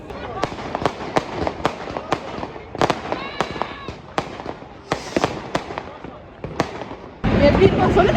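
New Year firecrackers bursting in Cologne in a rapid irregular series of sharp, loud cracks and bangs, some near and some farther off, with people talking in between and a burst of dense crackling at the end.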